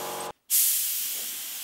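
Spray gun laying primer onto a drill press during a restoration, a short tonal hiss that cuts off, then a loud broad airy spray burst that slowly fades, close up with no talking.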